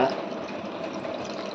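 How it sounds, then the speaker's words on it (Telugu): Water pours from a glass into a pot of vegetable biryani, a close, steady splashing rush lasting about a second and a half. "దాంతో 4 గ్లాసులు నీళ్ళు. 4 అంటే 4 ఫుల్గా వేయకూడదు."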